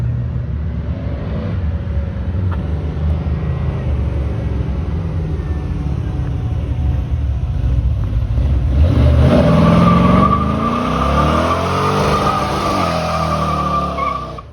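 At a rat rod rally and burnout show, a car engine rumbles loudly nearby and then revs harder as it pulls away, with squealing, skidding tires rising over the roar.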